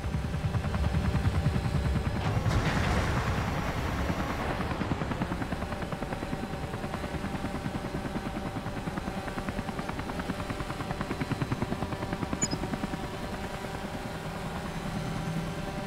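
Steady helicopter engine drone of a Comanche in the Comanche video game, a continuous mid-range whine and rotor hum at an even level, with no talk over it.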